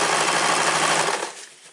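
A sewing machine runs a short back stitch on a cosplay coat mockup: a dense, steady mechanical whir for over a second, then slowing and fading as the machine stops, close and alone.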